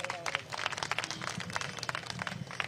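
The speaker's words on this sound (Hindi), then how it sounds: "एक बार अपने लिए आप लोग तालियां बजाइए जोर से" A crowd claps loudly in brisk, uneven bursts at an outdoor election-survey gathering in Nalanda, Bihar, with speech mixed in over the clapping.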